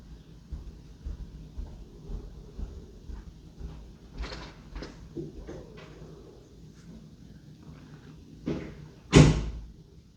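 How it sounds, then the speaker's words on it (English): A door opens or closes somewhere indoors with a few soft knocks and bumps, then one sharp, louder thud near the end against a quiet background. "A door."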